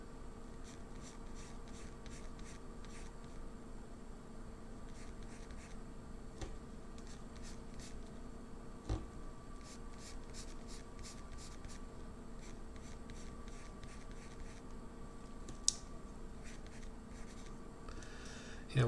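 A graphite pencil scratches and sketches on paper while drawing a cartoon figure, giving quiet, close strokes in quick rhythmic bursts with occasional sharper taps.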